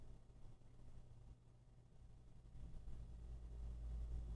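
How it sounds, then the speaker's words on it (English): Distant road traffic at the front of a house, heard from a back attic room as a faint, steady low rumble that swells slightly toward the end, with no voices. "So I can hear the traffic on the road"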